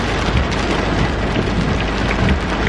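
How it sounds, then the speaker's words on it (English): Torrential rain pounds on a car, a dense, loud, constant roar of drops hammering the roof and windows without any letup. "now it's literally chucking it down like torrential rain. Can you hear it?"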